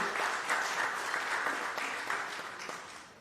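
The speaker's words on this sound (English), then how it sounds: "Whilst he's walking up, and you can applaud him," Audience at a dairy awards ceremony applauding, a dense, sustained wash of clapping from many hands that gradually fades toward the end.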